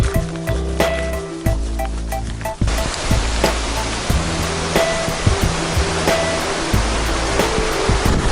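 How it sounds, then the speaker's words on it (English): Robson River in the Canadian Rockies rushing past, a loud continuous roar of fast-moving water heard up close, with steady rough texture throughout. "Here's the Robson River."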